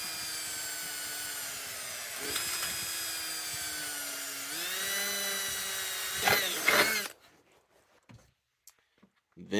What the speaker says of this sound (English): Pulse your trigger a little bit to get a little bite, and then you can drill through it.